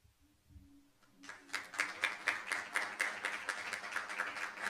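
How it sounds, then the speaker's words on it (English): A room of people at a school board meeting breaks into steady, rhythmic applause after a quiet start, moderately distant and continuing to the end. "One more round of applause for the Etchemendis."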